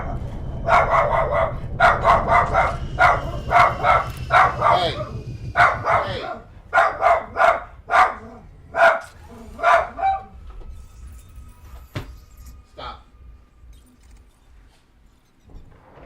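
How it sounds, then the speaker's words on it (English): Excited dogs bark over and over in rapid bursts for the first ten seconds, loud and close, then trail off into a few scattered yips and quieter sounds. "Easily excitable canines."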